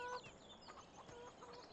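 Chickens clucking in a farm video game on Xbox One, a few soft, short clucks sounding faint and somewhat distant over a quiet ambient background.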